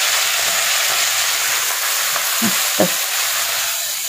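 Fenugreek leaves with green chillies frying in a pan, a steady soft sizzle with a couple of brief stirring scrapes near the middle.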